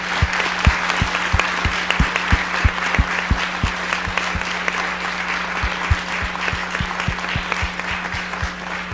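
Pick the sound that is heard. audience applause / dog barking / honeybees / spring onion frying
audience applause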